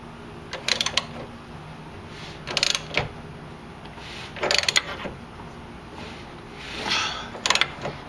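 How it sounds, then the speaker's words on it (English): A wrench ratcheting on pitman shaft bolts during a seal replacement, short clusters of quick metallic clicks repeated several times with pauses, close and moderately loud in a quiet workshop. "Get your wrench on here."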